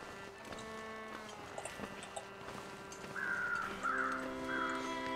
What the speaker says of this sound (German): jetzt höre ich dann hier schon die Krähen irgendwo